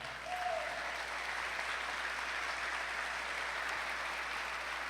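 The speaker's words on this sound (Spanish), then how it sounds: "¿Le puede dar un aplauso al Señor?" A church congregation applauds steadily and evenly for several seconds, a dense wash of clapping that fills the room with no pauses.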